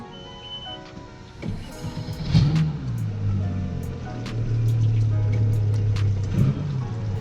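A Mercury Verado outboard boat engine idles steadily with a low, throbbing exhaust hum, its exhaust sounding normal. A few clicks and knocks are heard nearby as the motor keeps running.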